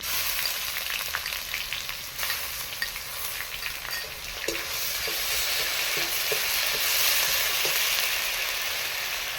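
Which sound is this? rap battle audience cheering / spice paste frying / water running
spice paste frying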